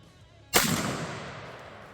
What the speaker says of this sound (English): we did manage to do a few rounds of chronograph shooting, so here's that